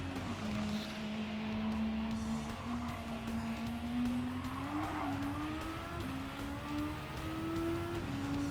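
Formula 1 car engine in the Gran Turismo 7 video game, a sustained high-pitched whine rising gradually in pitch as the car accelerates, with faint tire and track noise underneath and no talk.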